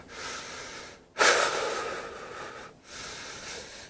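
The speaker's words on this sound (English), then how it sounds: "So keep allowing yourself to breathe." Slow, deep breaths during a movement routine, heard up close: a soft inhale, a stronger rushing exhale, then another gentle breath, with no talking.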